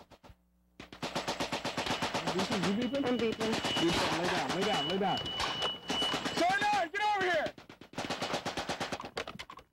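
Rapid machine-gun and rifle fire rattles in dense bursts during a military field training exercise, with a short shouted command among the shots.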